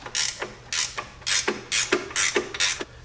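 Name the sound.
ratchet tightening a 15 millimeter bolt on a Jeep engine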